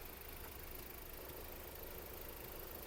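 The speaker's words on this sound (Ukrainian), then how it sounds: "Робота двигуна." An Audi A4 B7 engine idles with a steady, low rumble that never changes, a constant mechanical hum with no voices over it.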